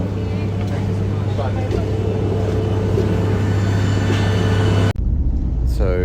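A steady low rumble of a rental car moving along a road in Greece, with the constant drone of the engine and tyres, a voice talking over it, and an abrupt cut near the end.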